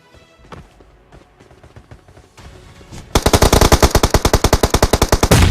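Rapid automatic gunfire in a shooting video game: quiet scattered shots and footsteps at first, then a loud sustained stream of evenly spaced machine-gun rounds for the last few seconds.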